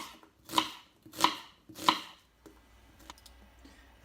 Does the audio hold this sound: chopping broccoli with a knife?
yes